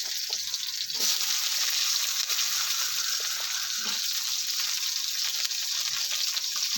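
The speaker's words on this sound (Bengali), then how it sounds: "এবার আমি কেটে রাখা সজনে ডাঁটাটা দিয়ে দিচ্ছি" Pieces of drumstick (sajne data) slide into hot oil with fried cumin and set off a steady, loud, bright sizzle that holds throughout, with a few soft stirring knocks.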